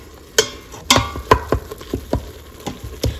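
Meat browns on sauté in an Instant Pot, with a spoon scraping and knocking against the inner pot in a series of short, close strokes over a low sizzle.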